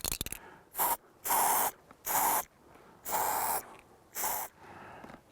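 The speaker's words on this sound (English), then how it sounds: "I like to spray them with some dry fly spray." Six short hissing bursts of dry fly spray from an aerosol can aimed at a wet pike fishing fly, close and crisp, separated by brief quiet gaps.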